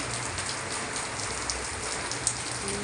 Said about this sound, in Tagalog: Tuloy-tuloy pa rin ang ulan guys.